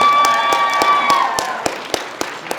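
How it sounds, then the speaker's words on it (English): Scattered handclaps from a convention panel audience ring out over a fading high tone, a sparse run of separate claps rather than full applause. "they were gonna applaud for me"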